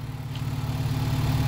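A Honda Civic EK engine idles with a steady low rumble, close and even, with no one speaking over it.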